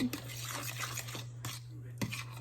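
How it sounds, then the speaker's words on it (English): Mashed bananas, sugar, egg and butter being mixed in a bowl for homemade banana bread, with a few soft utensil clinks and scrapes against the bowl over a steady low hum. "So we're mixing the bananas and the sugar and the egg and the butter"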